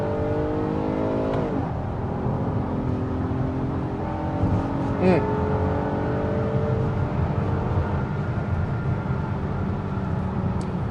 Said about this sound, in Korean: VTEC 터지는 순간 이제 완전 달라지잖아요